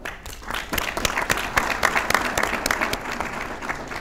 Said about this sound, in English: maybe a final round of applause before we move on